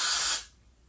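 Hair freeze spray sprayed onto a wig in one short, close, hissing burst that cuts off abruptly, leaving a quiet tail.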